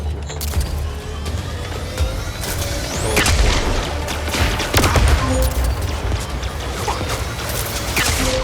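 Loud rocket launcher shots and repeated explosive booms in the video game MindsEye, with a dense, continuous barrage of blasts and debris throughout.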